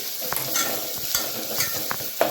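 Onions and spices sautéing in a pan for tomato rice, a continuous sizzle broken by several sharp spoon scrapes and stirring taps, close and clear with no talking.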